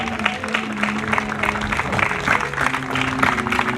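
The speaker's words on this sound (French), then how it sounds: "on peut les applaudir bien fort" Audience applause for a freestyle football show, a brief close burst of mixed clapping and crowd noise with some tonal background sound underneath.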